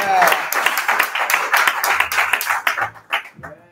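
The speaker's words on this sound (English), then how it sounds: "Let's give God another round of applause" A church congregation at Lee Haven UMC claps in a brief, uneven round of applause, with a few scattered louder claps and some voices mixed in as it tapers off.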